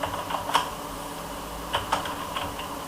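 Fingers tap keys on a computer keyboard in short, uneven bursts of light clicks close to the mic, over a quiet room hiss.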